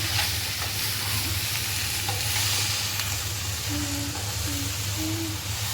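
Steady, loud sizzle of masala okra frying in a pan over high gas heat, with occasional scraping from stirring, close and continuous with no voices.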